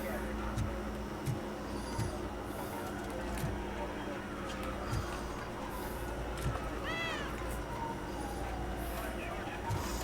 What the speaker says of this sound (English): There's a cat meowing right in my ear.